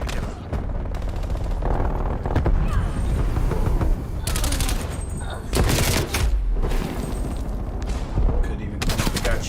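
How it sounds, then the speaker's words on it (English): Sentry turret gunfire in a Call of Duty Cold War multiplayer match: loud, dense bursts of rapid automatic fire with booming shots, continuous throughout, with some speech over it. "Hostile sentry turret active."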